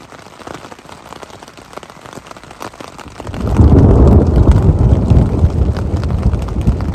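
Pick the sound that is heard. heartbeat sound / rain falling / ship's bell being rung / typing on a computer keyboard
rain falling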